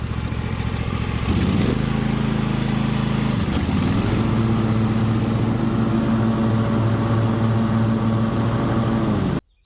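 A lawn mower engine runs steadily and close by after a repair, with a brief dip and recovery in its drone near the start and a second one a couple of seconds later, then cuts off abruptly at the end.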